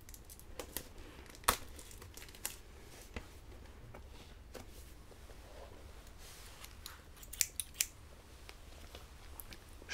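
Small scissors snip and crinkle through product packaging in a quiet indoor setting, with sparse sharp clicks and soft rustling against a low background hum.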